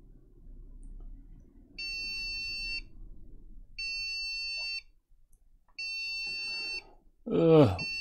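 Three steady electronic beeps from a Compaq CQ2 computer at startup after a power cycle, each about a second long, separated by short pauses, with a low hum underneath and a brief chirpy sound at the end.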